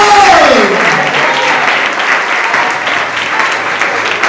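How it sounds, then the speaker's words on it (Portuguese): Congregation at a church sermon breaks into loud, sustained applause, a dense wash of clapping that starts as a voice trails off and continues steadily to the end. "Agora você pode aplaudir, Senhor."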